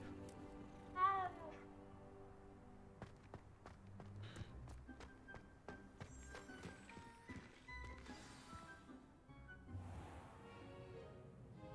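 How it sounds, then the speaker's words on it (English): A cat in the Hogwarts Legacy video game gives a short meow while being petted, followed by soft footstep-like taps and quiet game music. "Who would I be if I didn't pet the kitty?"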